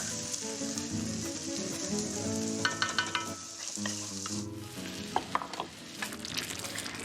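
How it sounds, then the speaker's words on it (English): Spices and chili sizzling in a pan before coconut milk goes in, with a continuous close hiss, a few sharp spoon-against-pan clicks partway through, and no talking. "I just want to let those spices and that chili simmer in here for about a minute before I add in our coconut milk."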